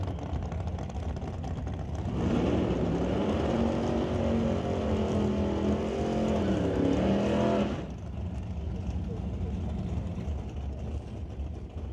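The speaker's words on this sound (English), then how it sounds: "Dragster gets to do the burnout first because typically takes a little longer" A drag racing dragster does a burnout at the starting line, a loud sustained engine roar with rising and wavering pitch that holds for several seconds, then drops back to a distant rumble.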